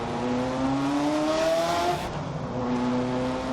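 A sports car engine revs close by, its pitch climbing and settling in a loud, steady roar.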